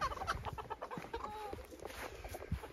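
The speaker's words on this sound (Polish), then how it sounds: "kurki," Chickens clucking and murmuring all around, a busy flock with overlapping calls at moderate distance in a faint outdoor setting.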